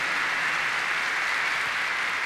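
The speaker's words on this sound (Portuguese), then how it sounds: "Uma salva de palmas a Jesus" A church congregation at a Christmas Mass applauds together, a dense, steady wash of clapping hands that fills the space evenly for the whole stretch, with no voices rising above it.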